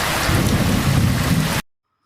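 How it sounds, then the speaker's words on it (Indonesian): Steady heavy rain mixed with low rolling thunder fills the sound, dense and loud, then cuts off abruptly into silence after about a second and a half. "Hujan turun dengan lambat dan membuat daerah itu berubah menjadi danau."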